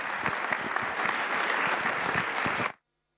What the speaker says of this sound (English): Give Glen a big round of applause as we invite him up